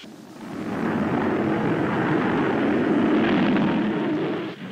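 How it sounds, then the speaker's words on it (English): A jet squadron flying overhead as a TV show sound effect, a loud sustained roar that swells in and holds steady for several seconds before cutting off, with no talk over it. "Marineville Executive Jet Squadron overflying Marineville, sir."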